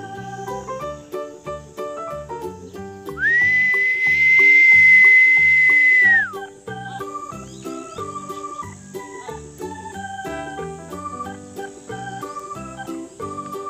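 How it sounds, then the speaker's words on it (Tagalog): A sustained whistle blown at a kite-flying outing rings out loud and steady for about three seconds over busy background music, then cuts off. "Sipol."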